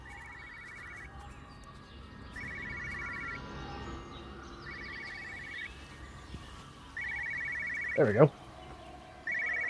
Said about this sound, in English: It's definitely a phone.